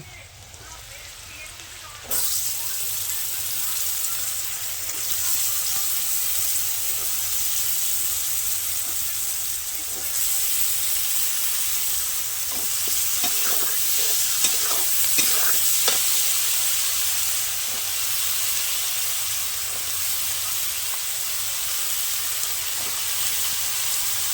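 Pieces of brinjal fry in hot oil in a pan, giving a loud, steady sizzle that starts suddenly and runs on with scraping stirring strokes, close up, while a voice talks faintly underneath.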